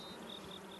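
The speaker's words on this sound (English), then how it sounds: "we've got this this forager bee right here" A forager honey bee buzzes at an open hive during a beekeeping field inspection, a close, steady hum with faint higher whine over low background noise.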